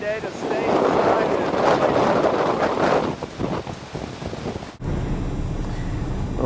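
Strong wind sweeping across an open field in Kansas, heard from inside a vehicle as a loud rushing gust with microphone buffeting that drops away abruptly near the end.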